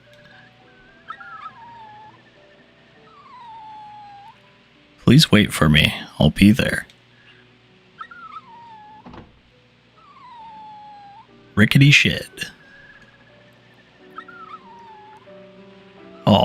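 Puppy Brown, a dog in the video game Rule of Rose, whimpering with thin high whines repeated softly over a quiet background, broken by two loud bursts of nearby talk.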